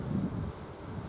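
Restless honeybees at an open hive, a low, dense buzzing drone close to the microphone that stays steady for about a second, soft and unbroken, with no voices.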